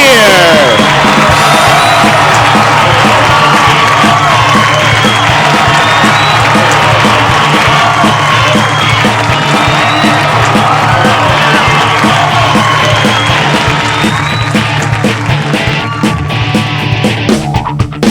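A large audience at a show choir competition roars, cheers and whoops for the cup winner, a loud, sustained wall of crowd noise with shouting voices throughout.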